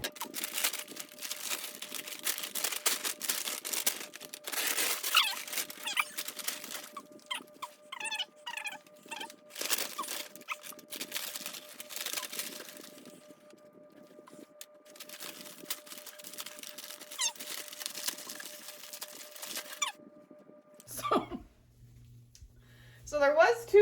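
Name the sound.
unpacking a mail-ordered houseplant from its packaging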